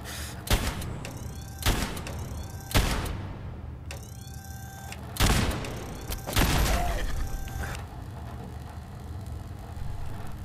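Gunfire in a Fallout video game: several loud, separate booming shots spaced a second or two apart, each with a short ringing tail, then quieter background hum. No speech is heard.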